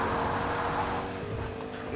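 A truck engine drives on in the video game Fortnite, a steady, fairly loud motor rumble with road noise holding throughout and easing slightly toward the end.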